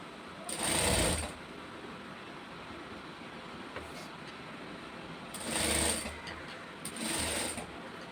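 A sewing machine stitches a saree blouse in three short runs of roughly half a second to a second each, separated by quiet pauses with no talking.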